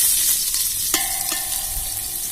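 Ginger and garlic fry in a pan while drumstick leaf soup is being made, giving a steady, close sizzle with a couple of light clinks from stirring.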